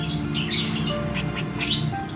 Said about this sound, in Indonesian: anakan pelatuk ya, pelatuk ulam